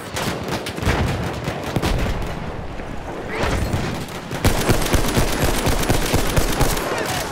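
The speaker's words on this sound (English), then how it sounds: "They're shooting at me!" Battlefield 1 video game combat, with heavy gunfire crackling in dense bursts and scattered shots, near and loud, briefly easing midway before the shooting picks up again.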